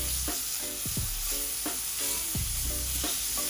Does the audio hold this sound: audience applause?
no